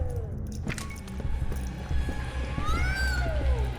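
A cat in the Poppy Playtime game gives rising and falling meows over low ambient rumble and soft footstep-like clicks, with a couple of drawn-out cries near the end.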